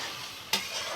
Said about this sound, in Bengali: এবার এটা আমি একটু লবণ দিয়ে কষিয়ে নেব।